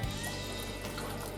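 Cold water pours steadily into a pot of Carolina Reaper BBQ sauce, a brief, even splashing rush at close range with no talking.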